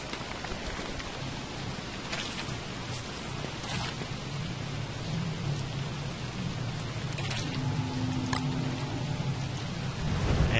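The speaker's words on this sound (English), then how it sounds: "And we have the frog rain." Steady frog rain in the video game Don't Starve hisses throughout, a dense, even patter with occasional sharper drops and a soft low rumble underneath.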